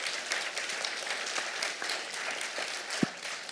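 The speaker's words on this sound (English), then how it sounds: "this is your chance to engage in that wild applause you've been wanting to" An audience applauds panelists after a discussion segment, a dense, even wash of clapping from many hands that holds steady for several seconds, with one sharp thump near the end.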